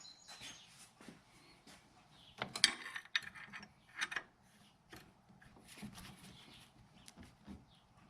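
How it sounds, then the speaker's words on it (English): A wrench tightens bolts on a Nissan Altima water pump, giving faint, close, irregular metallic clicks and small clanks in a quiet garage. "I'm just going to get a regular wrench and tighten them a little bit more."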